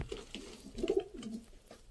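Soft cooing from Qasuri golden dab pigeons, a low throaty warble rising and falling for a couple of seconds, close by with faint background noise.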